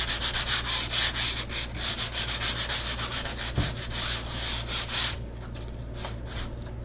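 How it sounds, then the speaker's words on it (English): Sandpaper scrubs across a painting surface in quick back-and-forth strokes, loud and close for about five seconds before stopping, followed by a few faint rubs. "you might want to sand a little bit of it"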